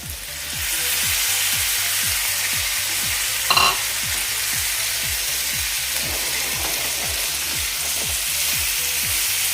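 Chopped capsicum fries in a hot pan with a loud, continuous sizzle and hiss. A single brief clink of a utensil sounds partway through, and a low rhythmic mechanical pulse runs underneath, with no speech.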